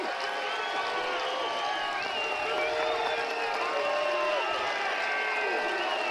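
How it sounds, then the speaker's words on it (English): Steady crowd murmur and scattered cheering fill a football stadium at Finley Stadium during an Indiana State at Chattanooga game, with the noise holding level and fairly loud throughout. "Pretty good crowd here at Finley Stadium."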